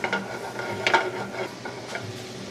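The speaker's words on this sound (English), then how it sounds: "I'm going to add some balsamic vinegar and let that reduce" Balsamic vinegar bubbling and sizzling as it reduces with butter in a hot pan, a steady close frying hiss with light stirring scrapes.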